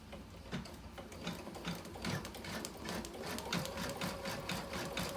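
An embroidery machine stitches a design with a steady, rapid mechanical chatter of needle strokes and motor whir, continuous and close-up throughout, with no talking.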